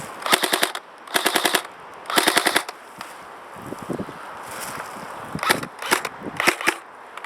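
Cybergun FN Herstal F2000 bullpup airsoft gun firing outdoors, several sharp rapid full-auto bursts separated by short pauses, loud and close with some quieter shots and faint background noise.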